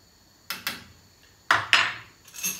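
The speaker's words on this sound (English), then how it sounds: "I have to stir a little bit" A spoon knocks against a metal pot of ginger drink in a few separate clinks: two quick taps, a pause, then two louder clatters and a softer scrape. The sounds are close and there is no talk.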